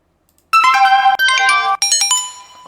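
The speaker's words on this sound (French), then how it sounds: "c'est quoi ces sonneries là?" Phone ringtones in the video game GTA RP: a bright synthetic melodic ring starting after a brief silence, three clear tonal phrases in quick succession, loud and close, with no talk.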